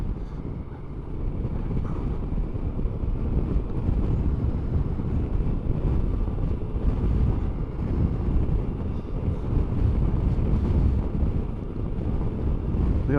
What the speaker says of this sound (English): The old wind is a buffeting.